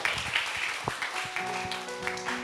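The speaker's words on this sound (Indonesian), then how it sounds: "Kasih tepuk tangan dong" An audience at a live talk show gives a round of applause, a continuous crackle of clapping hands with a faint tonal hum running underneath toward the end.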